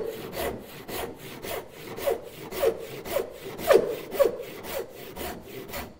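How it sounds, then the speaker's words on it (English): A hand saw cuts into wood in a workshop, the rhythmic back-and-forth strokes coming close and clear, about a dozen rasping pulls at an even pace with no talk. "Now I'm going in with this saw, like this."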